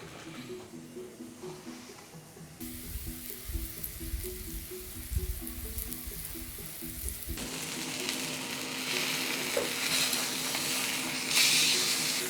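A pepper steak fries in clarified butter in a medium-hot pan with a continuous close sizzle that grows louder and brighter toward the end, over a faint low tonal hum.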